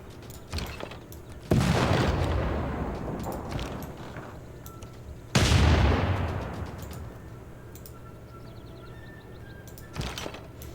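Units firing on a city in the strategy game Civilization VI: two heavy artillery booms with long rumbling decays, framed by smaller sharp shots and clicks. The booms are loud and close, with no talk.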